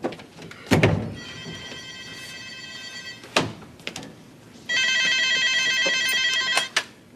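A telephone bell rings indoors in two long electronic trills, separated and surrounded by a few loud thumps and knocks.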